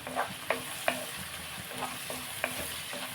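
Hot oil sizzles steadily as a spoon stirs tempering spices in a pan beside a pot of charu, with sharp scrape transients repeating every half second or so, close and alone.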